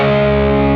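Electric guitar played through the drive channel of a Tonocracy amp simulator, with delay and reverb switched off: a single sustained distorted chord ringing steadily for under a second, thick and slightly muddy in tone.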